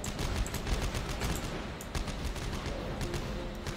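Rapid gunfire from the video game Dead Space 3 rattles in a dense, steady stream of shots, close and continuous from start to finish.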